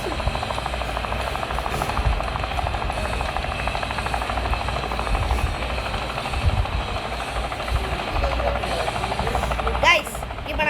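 Helicopter flying, a loud continuous rotor and engine roar with a choppy texture, sustained throughout at close range without pause.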